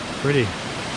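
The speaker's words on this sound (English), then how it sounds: "this is the waterfall at the end of the trail" A waterfall at the end of a trail in a gorge gives a steady, even rush of falling water, with a brief voice sounding over it.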